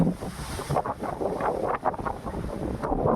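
Cold sea wind blows steadily over the ramparts of Bekal Fort on the coast, buffeting the microphone with rough, continuous gusts and a wash of distant surf, with no voices.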